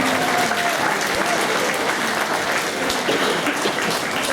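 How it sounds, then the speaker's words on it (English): Cruise ship passengers at sea on the Golden Princess applaud the officers in a loud, sustained crowd clapping, with faint voices mixed into the steady wash. "Another round of applause for all of them."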